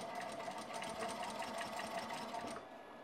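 A sewing machine stitches a corset waist belt in a steady, fast, continuous run, loud and close, stopping just before the end.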